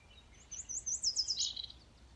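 A house wren sings a short, partial song, a quick bubbling trill of high chirps lasting about a second, fairly faint in a quiet outdoor park.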